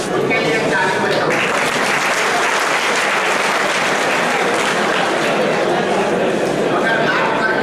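Loud, sustained audience applause at a business talk by Govindbhai Dholakiya, dense clapping filling the whole stretch without a break.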